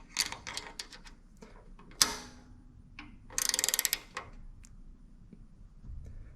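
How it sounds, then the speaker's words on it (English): A 13mm wrench tightening a valve adjuster nut on a VW Beetle engine: faint, close metallic clicks and scrapes in short irregular bursts, including a quick run of ratcheting ticks, against a quiet background. "I need to hold this screw in place while I tighten this nut down."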